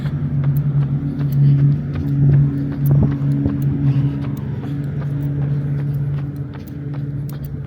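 A car engine rumbles steadily up close on a suburban parkway in Henderson, Nevada, swelling and easing over several seconds, with faint clicks and footsteps from someone walking nearby.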